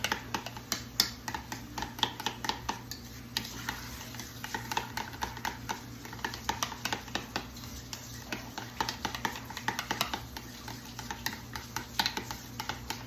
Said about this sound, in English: Let me just mix this all together.